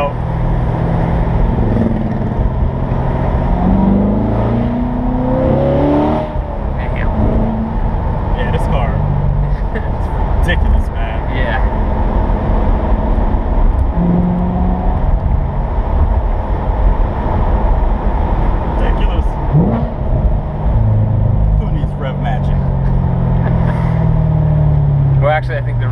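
A 2015 Corvette Stingray on a drive, a loud, continuous engine drone from inside the car with rising and falling revs, while people talk over it throughout.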